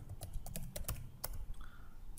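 Quick, uneven clicks from a computer keyboard as someone types, several keystrokes in short bursts over about two seconds, close and fairly quiet.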